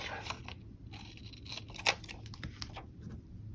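Scissors snip a line off a paper planner page, a few quiet crisp cuts with light paper rustle and one sharper snap in the middle, faint against a low room hum.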